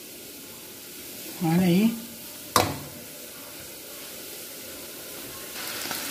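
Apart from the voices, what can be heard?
egg frying in a pan with sausage and bacon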